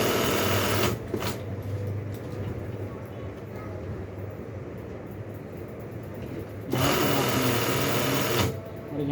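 A sewing machine stitches a zip pocket onto a shalwar, its fast steady whir running throughout with louder bursts at the start and end and a quieter stretch between, under occasional talk.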